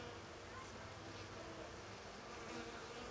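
Yellow honey bees hum continuously at the hive, a soft, steady buzzing close by with no break over a few seconds.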